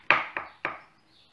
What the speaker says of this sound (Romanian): Tocăm totul la cuțit astăzi.